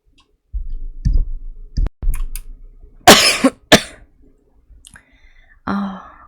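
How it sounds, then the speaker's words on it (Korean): A few coughs: a soft one, then two sharp, loud bursts close up, followed by a quieter throat sound, with short silences between. "건조해서인지 자꾸 기침이 나네요."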